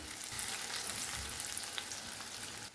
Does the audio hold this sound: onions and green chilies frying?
yes